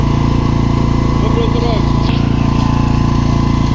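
A Senci SC 4000 i-O inverter generator runs in normal mode with a steady, close engine drone and a low pulsing hum, with someone speaking over it.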